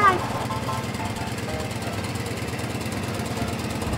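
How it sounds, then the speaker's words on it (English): A motorcycle engine runs at a steady, rough idle, loud and close throughout, with no rise or fall in pace. "He got my bike going so we can get out of here."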